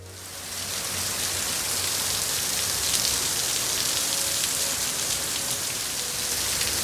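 Heavy storm rain from Eta pours down over Miami-Dade in a steady, dense hiss of drops on surfaces, loud and unbroken for the whole stretch with no voices.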